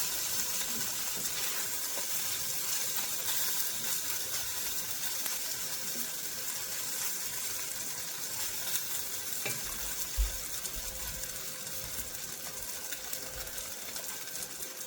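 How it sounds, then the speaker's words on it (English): Drained gnocchi toasts in a hot pan with a steady, close, even sizzle and frying crackle, a single soft knock partway through and no voices. "now we're gonna toast it for like 2 or 3 minutes."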